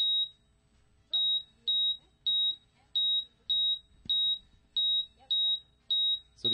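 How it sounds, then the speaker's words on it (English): A laptop running a heart-rate demo gives out sharp, high electronic beeps at a steady pulse-like rhythm, about ten of them, clear and up front, with quiet room noise and murmuring between them. "We don't want to miss the amazing beeps and boops from this."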